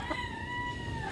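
A rooster in a backyard flock crows once, a long sustained call heard fairly near and clear, with faint outdoor background and no talk.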